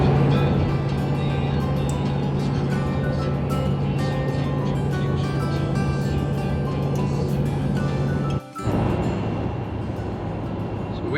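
Steady road noise from a truck driving on a highway through North Cascades National Park, a continuous low engine hum with tire rumble, broken by a brief dropout near the end.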